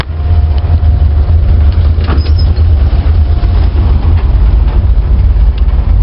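A carbureted car engine idles steadily at around 800 rpm just after its ignition timing was advanced a few degrees, a close, constant low rumble with no talk.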